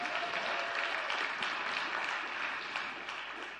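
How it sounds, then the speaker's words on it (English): Steady audience applause at an awards ceremony, a dense, sustained clapping from a large crowd that holds evenly and tapers slightly at the end. "Let's give her a round of applause."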